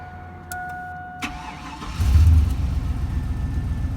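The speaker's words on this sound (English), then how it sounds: "Truck still starts up the first time." A 2000 Chevrolet Silverado 4x4 pickup truck's engine cranks and fires on the first try after a few clicks, then settles into a loud, rumbling idle close by.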